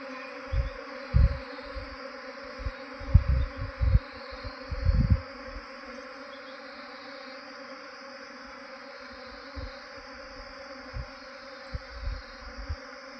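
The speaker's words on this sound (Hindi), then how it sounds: "ये देखो दोस्तों मधुमक्खी का झुंड पूरा" A swarm of honeybees hums outdoors, giving a dense, continuous buzzing drone. Occasional low thumps and handling knocks sound nearby, and no one speaks.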